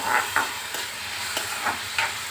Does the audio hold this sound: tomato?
yes